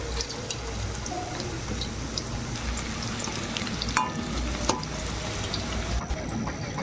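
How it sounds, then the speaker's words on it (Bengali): Chicken pakoras fry in oil in a wok over a low flame, a dense steady sizzle and crackle that carries throughout, broken by a few light clinks of a utensil. "যতক্ষণ না লাল হয়ে যাচ্ছে ততক্ষণ ভেজে নিতে হবে"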